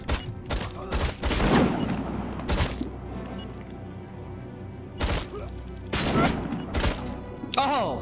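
Sharp bursts of gunfire from a RoboCop video game, sniper rounds landing in loud separate cracks and short clusters with quieter gaps between them.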